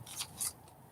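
Scissors snip a picture out of a magazine page in two quick, close cuts, each a crisp papery crunch, faint and brief with no talking.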